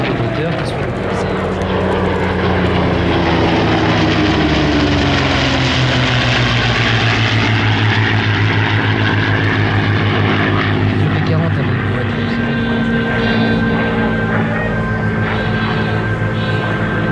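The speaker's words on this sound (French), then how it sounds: "Sera l'un des derniers Warbird à avoir un moteur en V." A warbird propeller aircraft with a V engine performs at the Melun Villaroche Air Legend 2023 airshow, its loud, continuous engine roar filling the whole stretch and shifting in pitch as it passes.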